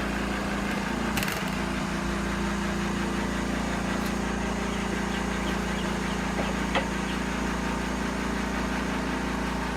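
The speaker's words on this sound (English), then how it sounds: "Compressor kick on." An air compressor runs steadily in a workshop during a light trace table build, a continuous engine-like drone with a low hum throughout and a couple of brief knocks near the start.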